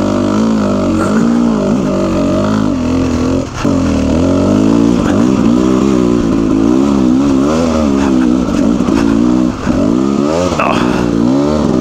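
A motorcycle ridden through slick, snowy mud, its engine revving steadily and rising and falling in pitch as the throttle works, loud and close for the whole stretch with no voices.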